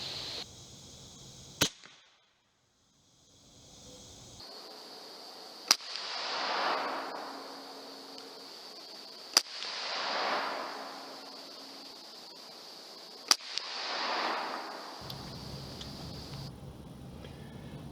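Four sharp, loud shots from .50 caliber Piledriver light ammo, spaced roughly four seconds apart, with brief swells of broadband noise between them and a quiet gap near the start.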